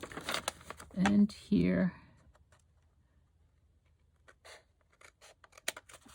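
Scissors cut gently across a fold of wallpaper for a collage, giving two short, close crisp snips with a papery rustle, followed by quieter scattered handling sounds. A person speaks briefly.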